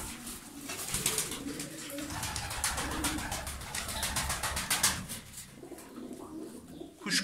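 Tumbler pigeons coo in a loft in Darıca, soft repeated throaty calls close by with chirpy accents, faint background noise and no talking.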